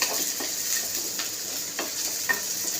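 Finely chopped onions sizzle in hot oil while a spoon stirs them, a continuous bright fizz broken by a few soft scraping strokes, close and clear with no talking.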